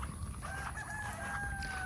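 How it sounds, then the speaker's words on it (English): A rooster crows in a long drawn-out call over steady low background rumble, at moderate distance. "look, there's Rooster."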